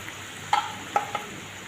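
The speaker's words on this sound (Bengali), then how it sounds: "এবার ঢেঁকি শাক ভাজা হবে।" Dhenki greens frying in a pan with sliced green chillies, black cumin and salt, a soft sizzle under a few sharp clinks and scrapes of a spatula stirring against the pan, close and fairly quiet.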